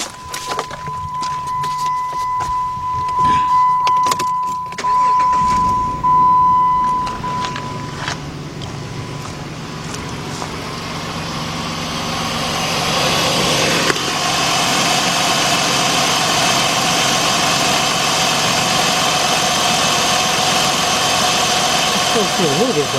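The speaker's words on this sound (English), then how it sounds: "let's go start this vehicle up" A 2006 Jeep Grand Cherokee Laredo with the 3.7 engine and a cylinder 3 misfire fault starts up after a steady warning tone, then settles into a continuous, even idle. People talk nearby.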